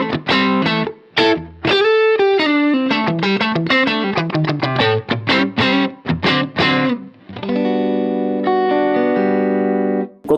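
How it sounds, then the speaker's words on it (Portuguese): Electric guitar through a Strymon Iridium amp modeler with a compressed, distorted tone, loud close-up single-note licks and bends ending in ringing sustained chords, with no voices. "Se eu tocar forte, ele me dá a compressão e a distorção que é bem característica desse tipo de amplificador."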